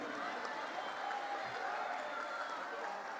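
Steady, dense applause from a devotional gathering's audience, a continuous hissing wash of many hands clapping at moderate distance throughout, without a clear break.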